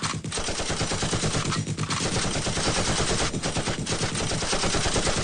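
Sustained dense gunfire from several weapons, a continuous loud rattling fusillade of rapid bursts without letup, close and harsh, no voices.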